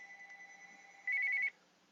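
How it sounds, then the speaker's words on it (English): A telephone rings with an incoming call during a math lecture, a short electronic warble rising over a steady background tone, heard once and faintly. "we get a phone call every once in a while"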